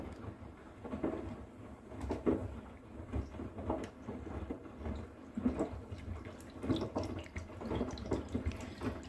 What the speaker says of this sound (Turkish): Biraz daha su ekleyelim içerisine.